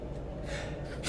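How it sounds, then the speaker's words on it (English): A sharp nasal sniff or snort during a casual gaming podcast, loud and close, with a brief breathy burst at the very end. "That sniff."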